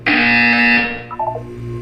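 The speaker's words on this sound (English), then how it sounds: "You will hear a buzzer." A loud electronic buzzer from the video game Portal 2 sounds once, a harsh steady tone that is held and then fades, with a few faint electronic blips after it.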